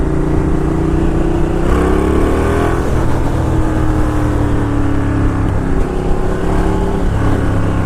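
A Ducati Diavel cruiser motorcycle accelerates hard, its engine note climbing through rising pitch sweeps over heavy, close-up wind rush, loud and unbroken throughout.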